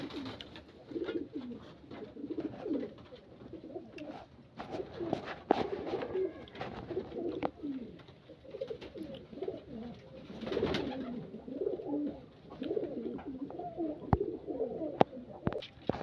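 Several pet pigeons coo continuously near a water dish, their low, throaty, overlapping calls rising and falling over a long stretch, with a few faint knocks and scuffles underneath.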